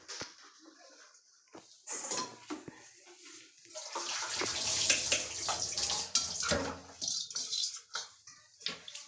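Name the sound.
draining water in a home kitchen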